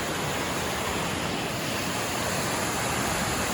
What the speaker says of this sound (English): Really pretty set of water down here.